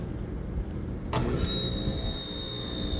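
An air conditioner unit kicks on about a second in, a sudden surge into a steady mechanical hum with a thin high whine as the compressor runs.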